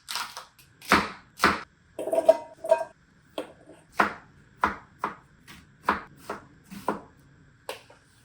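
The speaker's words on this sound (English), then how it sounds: "We're gonna wash them, cut them, prepare them so we can add it to the meal." Vegetables being chopped with a knife on a cutting board, about a dozen crisp, evenly spaced cuts close by, with no voices over them.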